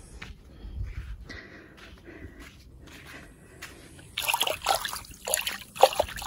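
Water trickles and splashes close by as a woman rinses herself off outdoors at a summer dacha on a hot day, starting quietly and growing into louder splattering toward the end.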